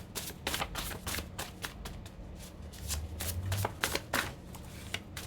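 Tarot cards are shuffled by hand in a rapid, dense flutter of papery riffles and slaps, steady and close for about five seconds, fairly quiet, with no talking.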